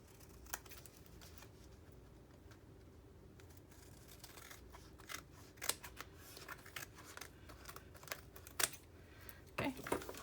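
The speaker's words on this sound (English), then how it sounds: "now let me try to cut off this wallpaper that's too long" Scissors snip off excess wallpaper on a collage journal page with quiet, close, irregular cuts and paper rustles, growing more frequent toward the end.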